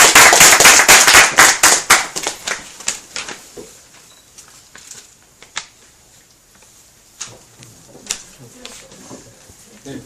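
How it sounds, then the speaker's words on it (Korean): A lecture audience welcomes an expedition leader with a burst of loud, dense applause that soon thins into scattered claps and dies away, leaving a few isolated claps in near quiet. "김성원 대장님을 힘찬 박수로 환영해주세요."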